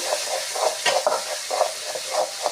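Tomato chutney being stirred in a pan after cumin powder and coriander go in, with repeated soft scraping strokes and a steady background sizzle, close and alone without talk.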